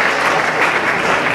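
Loud, dense applause from an audience at the NABBA Austrian Championships 2012 masters bodybuilding award ceremony, steady clapping throughout a short burst.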